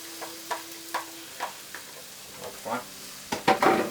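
Finely diced onion goes into a hot pan for a Japanese vegetable curry. Light taps and scrapes lead up to a louder burst of sizzling at the end, close by, with no one talking.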